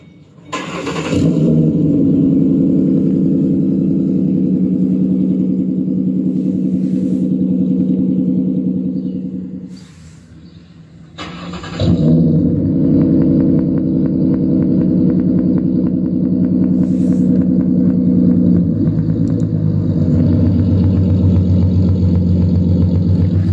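A non-supercharged V6 car engine with aftermarket exhaust and cold air intake idles with a deep, throaty exhaust rumble, briefly quiets, then restarts and keeps rumbling steadily and loud, close by.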